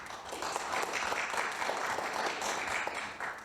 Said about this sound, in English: Please, a round of applause for Dave.